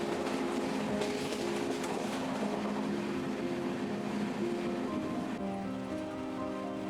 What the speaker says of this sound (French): Alors, on prend le train.